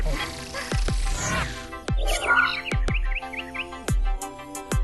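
A cartoon canary chirps in quick, tuneful warbling trills against a steady musical backing, punctuated by several sharp percussive hits, loud and close throughout.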